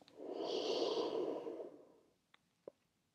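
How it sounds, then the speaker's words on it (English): A slow, audible inhale through the nose during a yoga sequence, close and quiet, lasting about two seconds before fading into a couple of faint clicks. "So we're breathing in to get long."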